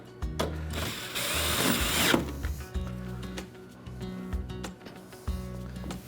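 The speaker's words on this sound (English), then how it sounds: "So we just put the bolt in and tighten it." A power drill drives a bolt into the wood of a raised garden box in a few short whirring bursts, close up, with some clicking and handling between the runs.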